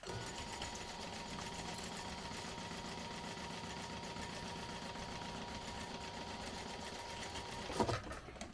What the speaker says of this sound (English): I'm going to top stitch at 1/8 of an inch